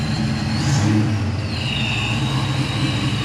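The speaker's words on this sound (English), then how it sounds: "Make sure you rev it up a little bit" A Ford Foxbody Mustang engine revs loudly and close, a sustained throaty roar holding steady with slight swells throughout, with no talking over it.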